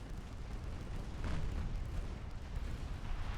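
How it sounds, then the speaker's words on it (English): A torpedo detonates in the naval battle game Ultimate Admiral Dreadnoughts as a dull, muffled boom that swells briefly within a constant low rumble of sea and battle noise. "Torpedo detonation."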